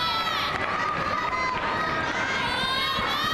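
A crowd cheers and shouts in a large arena at the 2007 World Gymnastics Championships team final, a steady roar of many voices lasting throughout.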